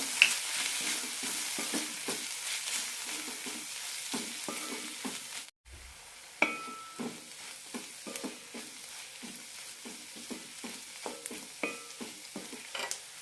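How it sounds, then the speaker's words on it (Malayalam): Coriander, chilli and turmeric powders sautéing in a pan, a soft steady sizzle broken by repeated scraping stir strokes, close and fairly quiet. "പൊടികളുടെ പച്ചമണം പോകുന്നവരെ വഴറ്റാം"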